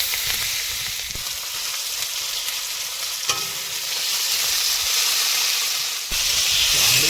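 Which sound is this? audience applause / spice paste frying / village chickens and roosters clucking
spice paste frying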